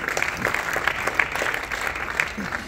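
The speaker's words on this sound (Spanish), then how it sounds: "You can give him a round of applause." A church congregation applauds during a bilingual Spanish and English sermon by a visiting pastor, a steady patter of clapping hands at moderate volume that runs through the whole stretch.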